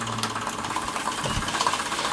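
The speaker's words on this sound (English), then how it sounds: "You hear the engine speed up straight away" Stirlingkit Retrol SE-02 model steam engine running up to speed, a faint, fast mechanical chuffing and ticking rhythm with light knocking, close by and without talk.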